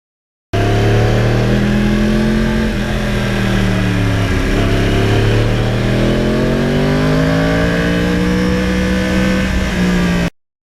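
A 2020 Yamaha R1 with its 1000cc crossplane engine runs loud and steady while being ridden in fine weather, its pitch rising and falling as the throttle changes and holding close for about ten seconds with no talk.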